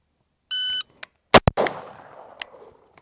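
A short electronic shot-timer beep, then two loud gunshots fired close together in a target transition drill, echoing outdoors, and a third softer shot a moment later.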